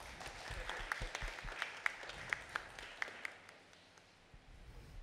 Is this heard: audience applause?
yes